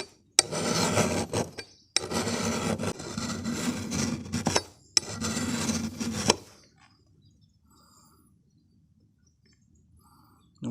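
Steel blade of a long-handled adze rubbed against a sharpening stone at a steeper second-bevel angle: three sustained gritty rasping bursts, close and fairly loud, then near silence.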